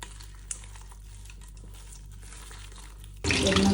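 A soya mix dropped into hot oil bursts into a loud, steady sizzle near the end, following a few seconds of quiet kitchen background with a faint knock or two.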